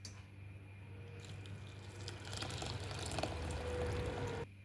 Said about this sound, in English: I'm going to add my boiling water and then my spices.